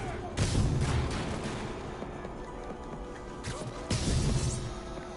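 Sniper gunfire in Marvel's Spider-Man, with two heavy booming shots standing out above dense rumbling game action.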